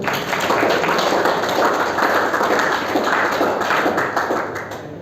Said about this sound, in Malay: Berikan tepukan.